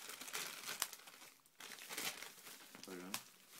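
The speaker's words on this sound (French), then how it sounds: "Donc du papier bulle." Bubble wrap is pulled open while a red dot sight is unpacked, giving bursts of crinkling and rustling plastic with short pauses, and a voice briefly heard near the end.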